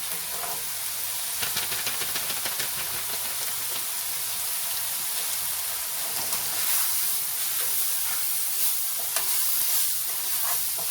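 Taco seasoning is stirred into ground meat frying in a pan, giving a constant crackling sizzle with repeated scraping strokes of the utensil, close and unaccompanied by talk.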